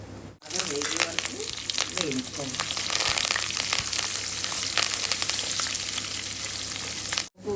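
Loud, continuous sizzle of tempering spices, peanuts, curry leaves, dried chillies and asafoetida frying in oil, dense crackle throughout, with a faint voice briefly early on.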